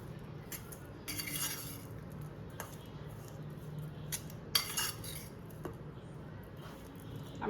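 Spoon stirring a paneer paratha filling with garam masala in a bowl, giving soft scraping and a few light clinks of metal against the dish, close and quiet, with no talk.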